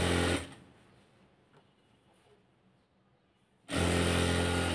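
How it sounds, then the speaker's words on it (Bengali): A sewing machine stitches piping along the edge of a kameez, running loudly at the start, pausing to a quiet room hum for about three seconds, then starting again at full speed. "তো আমি পাইপিংটা লাগানো শুরু করছি, একদম কিনার দিয়ে সেলাইটা দিচ্ছি।"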